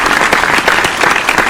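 Sustained audience applause during a Dominican dembow-themed talk show, dense and steady clapping throughout without speech.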